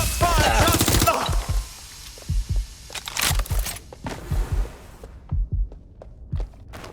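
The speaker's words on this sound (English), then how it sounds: "Suspect shooting! I need cover! Shots fired!" Video game gunfire in Watch Dogs: Legion: a rapid, loud burst of automatic fire at the start, then scattered single shots and short volleys with gaps between them.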